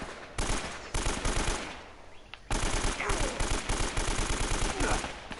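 Rapid bursts of AK rifle fire in Uncharted crackle loudly in short volleys, separated by brief pauses, with sustained firing in the second half.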